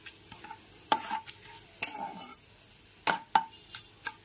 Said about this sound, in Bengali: এবার ফোড়নটাকে আমি ভালো করে ভেজে নেব।